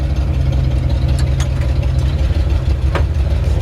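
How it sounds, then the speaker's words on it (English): A loud, steady 1952 Ford F1 truck engine idles close by with a rough, chugging exhaust pulse from an exhaust leak and occasional sharp ticks cutting through. "Really like the sound of the exhaust back here. It's just got a nice old truck sound to it."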